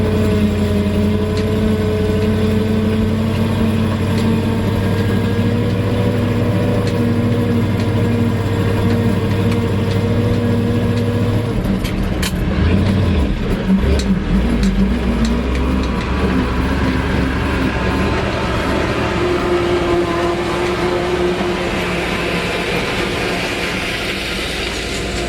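An old Ford tractor working in second gear while chopping corn, its engine running as a loud, steady drone with rattling mechanical noise that shifts briefly partway through, close up and with no talking.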